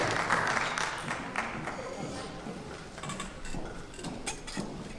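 An audience at a poetry event claps continuously for several seconds, a dense, moderately loud wash of hand claps with crowd voices and cheers mixed in.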